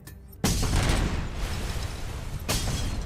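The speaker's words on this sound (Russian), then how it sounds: "что это за взрывы?" Explosions in the RoboCop: Rogue City video game: a sudden heavy boom breaks a quiet moment, followed by rumbling blast noise and a second burst about two seconds later, loud and close.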